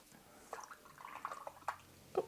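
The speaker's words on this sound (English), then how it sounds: "splashing water everywhere here." Water splashing and dripping from a brush during watercolor painting of a vibrant landscape vignette with Meiliang watercolors; a few faint, brief droplet splashes scattered unevenly over a quiet background.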